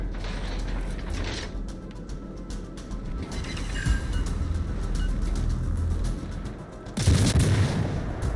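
Artillery fire from 155 mm guns in a video game, a dense mechanical rumble with creaking, ratcheting clanks and a loud burst near the end, played without talk.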